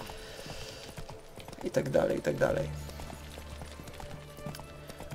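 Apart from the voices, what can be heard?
horse hooves clip-clopping in video game Witcher 3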